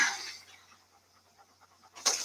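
A dog pants in quick, soft rhythmic breaths from a film soundtrack, framed by brief louder noise bursts at the start and end.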